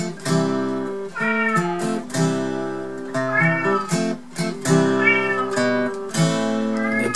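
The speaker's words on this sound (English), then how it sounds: "sorry about the cat, she'll hopefully be quiet in a minute." A female cat meows loudly and persistently through a guitar lesson, with drawn-out wails repeating every second or so while guitar chords ring underneath.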